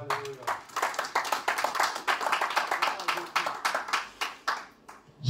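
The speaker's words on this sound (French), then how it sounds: "est-ce qu'on peut encore acclamer les Seigneurs?" A church congregation claps to acclaim the Lord, steady rhythmic clapping from many hands filling the room, fairly loud and continuous, with voices mingling faintly underneath.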